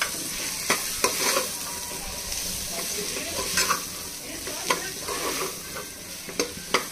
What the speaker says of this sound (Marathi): आता आपण हा मसाला पूर्ण असा भाजून घेऊया।